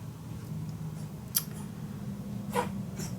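Scissors cut paper for a desk storage box with two distinct crisp snips about a second apart, close and clear over a quiet, steady background hum.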